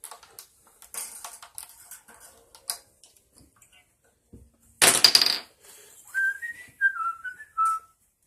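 A person whistles a short tune in several clear rising and falling phrases, following scattered light clicks, ticks and a burst of metallic rattling.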